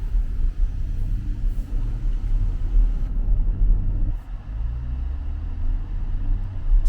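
A Jaguar Land Rover car rolls along the road, its low, steady engine and tyre rumble filling the cabin without a break and no one speaking.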